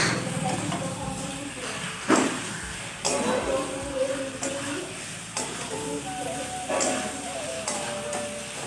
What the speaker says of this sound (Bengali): এই পর্যায়ে আমি দিয়ে দেবো চিকেনটা। চিকেনটা দিয়ে খুব সুন্দরভাবে কষিয়ে নেব।